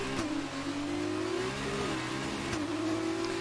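Formula 2 car engine in the F1 2019 racing game revving hard and steadily as it climbs a hill, with a rising and falling engine whine and wheelspin, loud and continuous with no talk.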